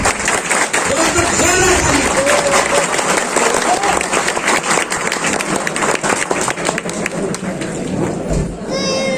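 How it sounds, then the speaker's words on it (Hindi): Loud, dense applause from a large crowd at a company's sixth anniversary event in a hotel in Pilibhit, continuing steadily for many seconds with voices mixed in. "आपकी जोरदार तालियों के साथ"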